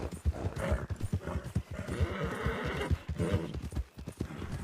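Rapid, steady hoofbeats of galloping horses ring out close and loud in a Wild West role-play game, with a whinny breaking in partway through and the pounding continuing throughout.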